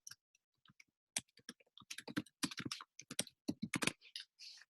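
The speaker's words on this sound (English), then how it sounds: "I'm going to click on my document, and I'm basically just going to type my answer" Someone types an answer on a computer keyboard, a close and fairly quiet run of irregular key clicks with short pauses and no talking.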